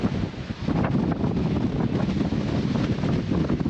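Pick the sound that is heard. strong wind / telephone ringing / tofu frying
strong wind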